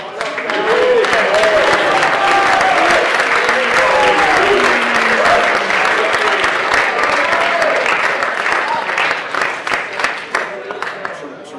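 A roomful of people at a winter awards banquet applauds the indoor soccer players, sustained dense clapping for around ten seconds that thins toward the end, with voices talking and calling out over it.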